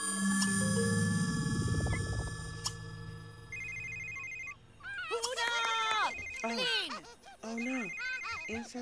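An in-game telephone rings in The Sims 3, a repeating electronic trill in regular bursts over steady background music, with a voice chattering briefly near the end.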